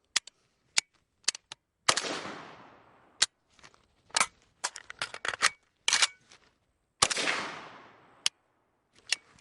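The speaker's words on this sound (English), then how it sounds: "what I want to get is a report and then the click. The click is the alarm for me to go into the reload process" An AK-74 rifle fired, an empty click, then a strip magazine reload: sharp isolated reports and metallic clicks, clattering handling noises and a couple of longer rattling sweeps, close and sparse with quiet gaps between.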